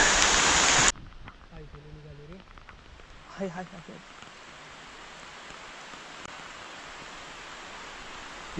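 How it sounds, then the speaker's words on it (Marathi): Heavy evening monsoon rain hisses in a dense wash, with a burst of louder noise at the start and a brief faint voice-like sound partway through. "पाऊस आहे ना जोर पकडला संध्याकाळचा टायमाला"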